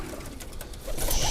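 Racing pigeons coo softly in a loft on race-loading day, a low murmuring flutter of calls close by, with no voices over them.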